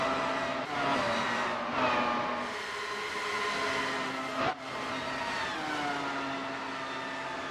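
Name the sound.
Dallara race cars of the race leaders passing by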